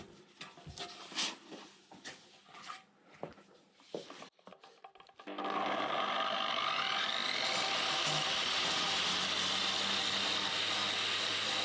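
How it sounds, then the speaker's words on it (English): A large angle grinder rubs down a raised weld on a Royal Enfield Meteor rear mudguard, starting abruptly after a few scattered knocks and holding as a loud, close, continuous abrasive roar with a high whine. "I'm just going to rub that off with the bigger grinder."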